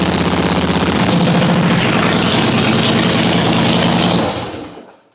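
A Harley Davidson Softail Heritage motorcycle idles close by with a loud, heavy, lumpy rumble that stays steady for about four seconds, then dies away as the engine is shut off.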